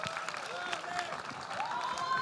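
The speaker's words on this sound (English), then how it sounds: "Please, let's give a round of applause for Mr." An audience applauds Sivakarthikeyan at a film festival conversation event, a steady crowd clapping at moderate level with tonal feedback and some voices running underneath.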